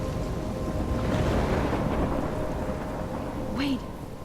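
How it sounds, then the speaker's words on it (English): Steady heavy rain and rolling thunder fill a Life is Strange storm scene, a continuous dense roar with low rumbles swelling and fading and a brief high squeal near the end. "I'm trapped in a storm."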